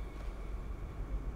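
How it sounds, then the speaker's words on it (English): A train rumbles past in the video game Dishonored, a steady, dense low roar with clattering texture that fills the whole moment, fairly close and continuous, with no voices. "That's a train."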